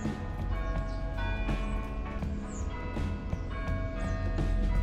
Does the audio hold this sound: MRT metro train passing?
no